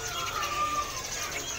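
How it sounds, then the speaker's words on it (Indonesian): Small kancilan birds call at a busy bird market with thin chirps and coos scattered through a noisy crowd bed, while someone talks over them. "Ini penampilan burungnya tuh, burung kancilannya."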